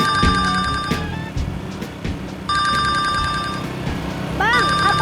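A telephone rings in repeated electronic bursts during a phone call, loud and close, with a pause in the middle and a warbling tone near the end, while voices talk underneath.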